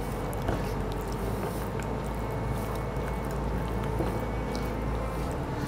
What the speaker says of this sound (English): A little water, and use your hand. Just mix it up